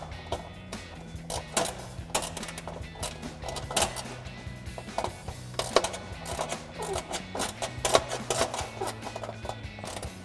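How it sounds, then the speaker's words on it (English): Hand tools, a 3 mm Allen wrench and an 8 mm ratcheting wrench, tighten bolts on a DV8 Offroad aluminum front inner fender of a Jeep Gladiator JT, giving a steady run of close, light ratchet clicks and small metallic taps. "So now we'll take that 3 millimeter Allen wrench and 8 millimeter ratcheting wrench to tighten this down"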